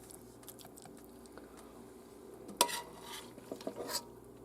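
Rabbit meat filling being spooned into pastry pie pans, quiet scraping and stirring with a couple of sharper clinks of a utensil against the pan near the end.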